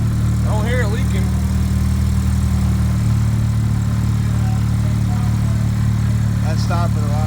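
A Honda Civic with an R18 engine idles steadily after turbo repair work, a constant low hum with a smooth even tone, while people talk briefly over it near the start and again near the end.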